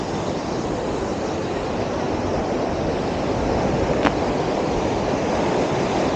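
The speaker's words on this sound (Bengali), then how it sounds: "অ্যাকচুয়ালি ঝর্ণা এটা, এখান থেকে এটাই পড়ে" Steady rushing roar of a mountain waterfall at a Spiti campsite in the Himalayas, broad and continuous, with wind buffeting the microphone and no talking.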